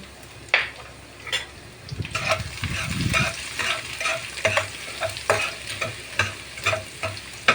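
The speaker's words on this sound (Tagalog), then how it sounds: "magigisa tayo ng bawang" Garlic sautés in a pan with a low sizzle under repeated scraping of a spatula, the strokes coming in an uneven rhythm with occasional sharp clinks against the metal, close up and without speech.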